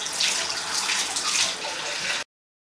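Running water rinsing a bulldog in a bathtub, a steady broadband splashing stream that runs continuously at close range and then stops abruptly near the end, with no talking.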